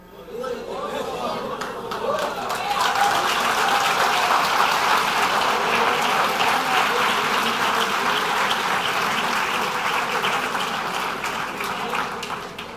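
Applause from a church congregation during a sermon, a broad, sustained wash of clapping from many hands with murmured chatter beneath, swelling quickly and holding steady for several seconds before easing slightly.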